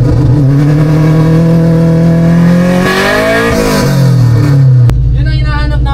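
A Honda Civic EG engine idles, then revs up sharply and falls back, its tone rising and dropping close by before cutting off abruptly.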